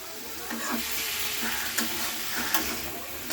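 Cauliflower and potato curry sizzles in a pan after a splash of water, with a steady frying hiss and a few spoon scrapes and knocks while it is stirred.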